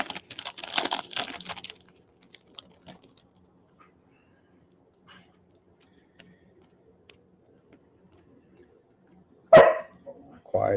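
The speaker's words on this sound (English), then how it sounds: "Quiet dog." A dog barks indoors during a quiet tabletop session of opening football trading cards: after some light clicking and near silence, two sharp, close barks ring out near the end.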